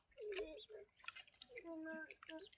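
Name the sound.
washing raw mutton in water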